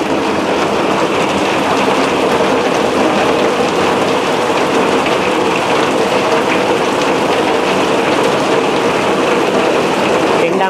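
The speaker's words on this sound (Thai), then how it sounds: "ดังมากเวลาฝนตกหนัก" Heavy rain pouring outdoors beside a fish tank, a loud, dense, unbroken hiss of drops hitting surfaces throughout, with no talk.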